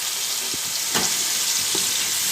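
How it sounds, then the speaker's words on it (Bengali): Onion paste goes into hot oil for a soya chunk roast and sizzles loudly and continuously, with a couple of sharp stirring clicks over the hiss and no voices. "তেলটা প্রায় গরম হয়ে গেছে। এখানে কোনো ফোড়ন আলাদা করে দেবো না, যেহেতু আগে জিরে ফোড়ন দিয়েছিলাম। এখানে এবার আমি পেঁয়াজ বাটাটা দিয়ে দেবো।"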